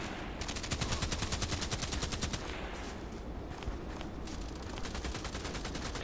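Rapid automatic gunfire in the online shooter Contract Wars, a fast, continuous rattle of shots that pauses briefly once before bursting again, close and loud with no talking.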